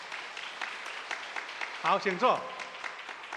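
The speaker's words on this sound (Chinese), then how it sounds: "来，子兰执事来拍手" A church congregation at a Sunday service claps in quick, moderate bursts to encourage a deacon, and then a voice speaks briefly over the fading claps.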